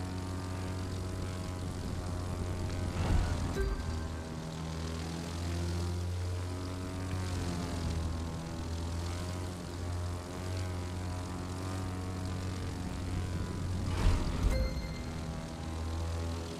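Propeller stunt plane in The Crew 2 flying upside down at low altitude, a steady loud droning engine hum that holds throughout with slight swells in pitch and intensity, no voices.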